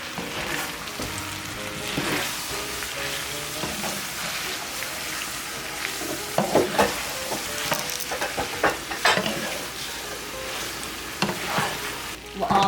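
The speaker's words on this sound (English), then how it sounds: "cook over low heat for 2 to 3 minutes until the ingredients are well combined and the sauce is heated through" Homemade sweet and sour sauce with chicken cooks in a pan over low heat, a soft continuous sizzle with bursts of stirring and scraping, close by and without talk.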